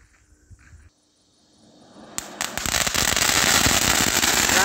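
A Diwali drumstick cracking fountain firework erupts after a brief quiet lead-in, building into a dense, loud, continuous crackle of rapid popping sparks that keeps going steadily.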